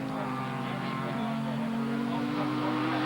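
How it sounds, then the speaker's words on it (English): Sports prototype race cars run on a drying circuit during a Sportscar World Championship round, producing a steady, loud engine drone with sustained tonal harmonics throughout, no clear passes or gaps. "Gary Formato is out of the pits and begins to charge back through the field"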